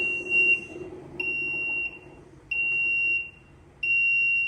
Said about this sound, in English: You've got to press the second one, which then lets it beeper off the whole time.